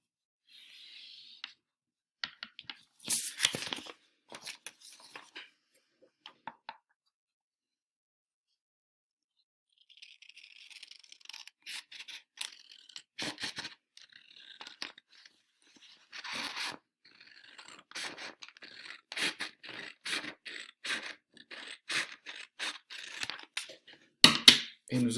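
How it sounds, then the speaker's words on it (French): Scissors cut a strip of folded paper with soft, irregular snips and crisp paper rustles, close and quiet, stopping for a few seconds of silence before continuing at a busier pace. "nous allons découper le long du pliage pour enlever cette bande de papier"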